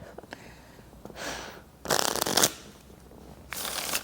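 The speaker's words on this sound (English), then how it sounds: "you going to do your legit shuffling?" A deck of playing cards shuffled close up in a few quick riffling bursts, with pauses between them and no talk.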